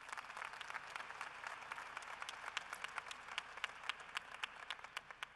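Audience at the University of Colorado Colorado Springs fall 2013 commencement applauds in a broad, distant wash that thins toward the end into scattered individual claps.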